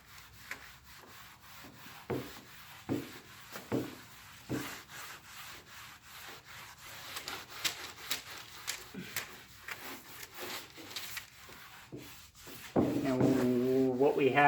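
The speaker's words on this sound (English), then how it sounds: "so after sanding, give it a good wipe down" Someone repeatedly rubs down a freshly sanded wooden dresser, making soft, steady wiping strokes up close. The sound is fairly quiet, with a brief louder sound at the end.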